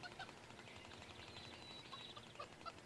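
Farmyard poultry in the video game Ghost Giant, with faint, scattered clucks and squawks from several birds over a soft ambient background, no voices.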